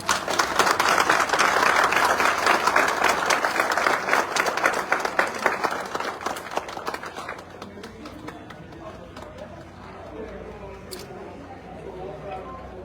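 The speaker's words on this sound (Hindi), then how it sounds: "जोरदार ताली।" Enthusiastic audience applause at an AWPL achievers' event rings out loud and dense for about seven seconds, then thins to scattered claps as people begin talking and chattering.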